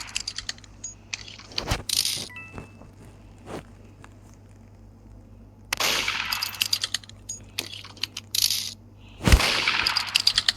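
Video game gunfire, sharp bursts of shots in clusters with long gaps, loud and close, mixed with clanks and rattling.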